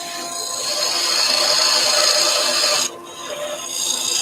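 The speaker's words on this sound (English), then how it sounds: "So lead in with the front of the parting tool." A parting tool cuts into a resin banksia apple spinning on a wood lathe, giving a steady, close, bright scraping hiss that runs loud for a few seconds, dips briefly, then resumes.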